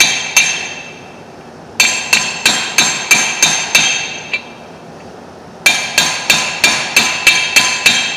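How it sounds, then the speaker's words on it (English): A hammer taps a seal into the clutch of a Massey Ferguson MF 300 combine with a socket on the race, making sharp metallic clinks in two quick runs of about six strikes each, close and clear with no talk. "We should be able to gently tap that."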